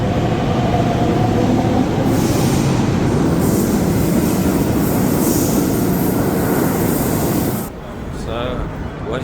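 A Rio de Janeiro subway train rumbles and rattles loudly and steadily at close range, with faint wheel squeal. The roar drops noticeably near the end as the train slows or the surroundings change.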